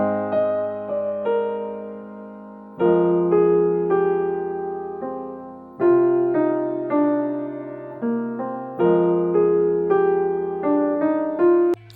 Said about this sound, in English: we have a piano which sounds like this.